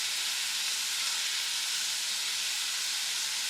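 Leftover meatloaf pieces fry with peppers and onions in a pan, giving a steady, even sizzling hiss that holds close and constant throughout.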